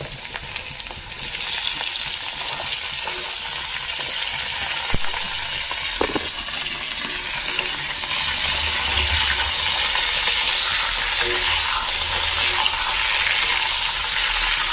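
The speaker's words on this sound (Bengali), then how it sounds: "দেখো লাল লাল করে আলুটা ভেজে নিয়েছি কি সুন্দর করে এরপর বেগুন দিয়ে দেবো" Potatoes frying in hot oil for an eggplant curry, a steady close sizzle running throughout with a few light clinks of a utensil against the pan, no voices.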